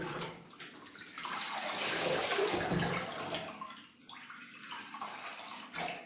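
Water poured onto a potted orchid growing in live bark, a continuous splashing and trickling pour that swells in the middle and tapers off, close by with no talking.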